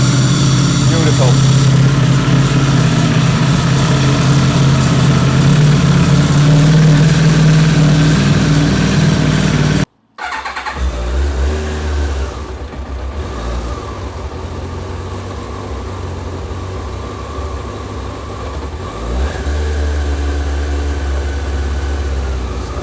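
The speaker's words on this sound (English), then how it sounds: "who doesn't love the sound of a V4?" An Aprilia RSV V4 motorcycle engine runs loud and close in a garage workshop, a steady smooth idle with a brief cut, then the engine settling back into a low rumble.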